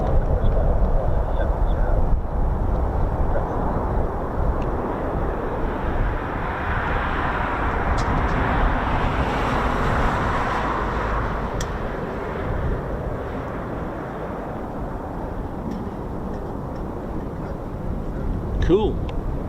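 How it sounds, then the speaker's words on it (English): An F-15 fighter jet at RAF Lakenheath gives a broad, steady roar that swells in the middle and fades, heard from a distance with wind noise and people talking over it. "Oh wow, an F-15."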